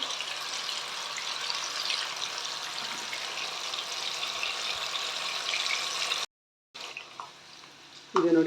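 Avare bele, field bean lentils, fry in oil over a medium flame for a crunchy mixture, giving a steady close sizzle that cuts off abruptly, then returns more quietly and ends in a short burst of louder noise.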